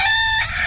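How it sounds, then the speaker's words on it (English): A rooster crows a drawn-out cock-a-doodle-doo, loud and close with bright, sustained tones that shift pitch partway through, played alone on a radio show. "the cockerel returneth"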